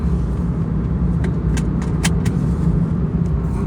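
Steady road rumble on a highway with a truck loaded with discarded bumpers driving just ahead, a continuous low engine and tyre drone with a few faint higher clinks over it.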